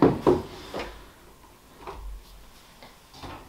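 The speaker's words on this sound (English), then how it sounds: "A pull-out vertical pantry." Vertical pull-out pantry drawer in a small tiny house on wheels, giving a few short wooden clicks and knocks as it slides, loudest at the start, then quieter bumps, close by with no talking.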